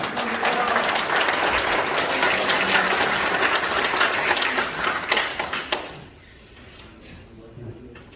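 A conference audience applauds loudly to welcome a guest at a tenth-anniversary academic symposium, steady dense clapping that cuts off sharply near the end, leaving a quiet room with faint stray noises.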